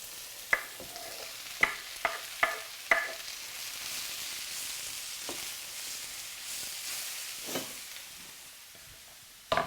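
Food frying in a pan with a steady soft sizzle, broken by several sharp scrapes and clinks of stirring near the start and a few more later, with no talking.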